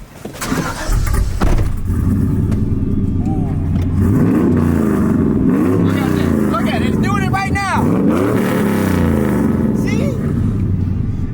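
Manual Chevrolet Silverado pickup with an NV3500 transmission driving, its engine loud and close as it revs and rises through gears, with a voice talking over the steady drone.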